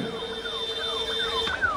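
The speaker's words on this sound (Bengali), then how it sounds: "অ্যাম্বুলেন্সটা ছেড়ে দিন ভাই" An ambulance siren wails in a steady cycle of falling tones as it passes through a political road show crowd, moderately loud over a low background hum.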